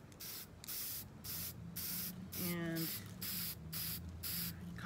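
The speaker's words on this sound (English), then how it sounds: "Okay, let's start spray painting these." Spray paint hisses from a can in repeated bursts, each a few tenths of a second long with short gaps between, during living-room work in a cottage renovation. A voice speaks briefly over the spraying, and a faint low hum runs beneath.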